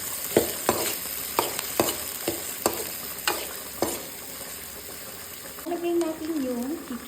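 Garlic and onion sautéing in a pan for pancit canton, with a constant sizzle broken by repeated sharp spatula strikes against the pan and a voice heard briefly near the end.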